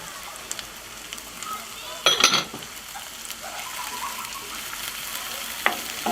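Mushrooms frying in butter with onion and garlic in a pan, a soft steady sizzle with a brief louder clatter of stirring partway through.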